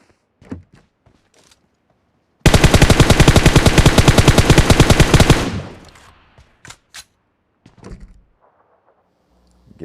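Automatic rifle fire in PUBG bursts out in one long, loud, rapid stream of evenly spaced shots lasting about three seconds, then gives way to a few scattered clicks and thuds of movement.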